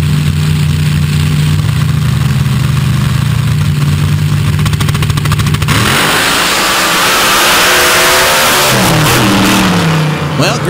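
A dirt drag racing car at an ultra quick dirt drags event holds a loud, steady engine drone, then cuts off and a hard, roaring rev rises and sweeps upward, close and dominant.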